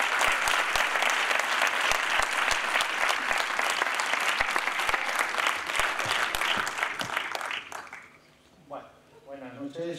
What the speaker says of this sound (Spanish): con un fuerte aplauso, aquí tienen ustedes a José Luis Sánchez Lerre